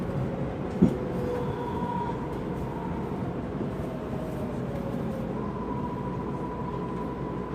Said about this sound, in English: This train is bound for AG Home Station.